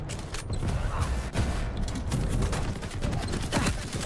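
Rapid gunfire from a favourite weapon in the Quake Champions PC game, a dense, continuous fusillade of shots and mechanical clatter filling the whole stretch at steady loudness.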